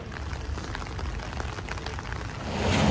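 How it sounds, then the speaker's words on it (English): Steady rain falls in a Dublin street, a constant broadband hiss with soft patter that swells slightly louder near the end, heard alone without talk. "It's raining right now, so we're out of the rain."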